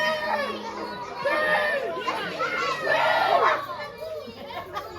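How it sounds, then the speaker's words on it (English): A live pro wrestling crowd in Dundee reacts with a swell of mixed shouts, jeers and chatter. Voices rise and fall in waves, with some higher-pitched calls standing out from the crowd. "Crowd not happy with that result at all."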